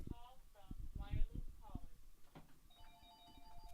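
A telephone rings in a repeated electronic trill that begins after a stretch of talk, clear and moderately loud. The setting is a live radio sports talk show.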